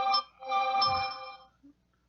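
A mobile phone ringtone rings at seven in the morning in short bursts of bright electronic tones, loud and close, then stops.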